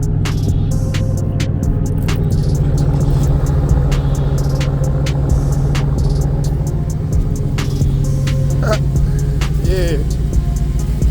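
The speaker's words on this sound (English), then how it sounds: "why not do a cold start on the LTZ" Cold start of a Dodge Magnum SRT8 Hemi engine, a loud steady low rumble at idle close by, with some clicks and faint background noise over the top.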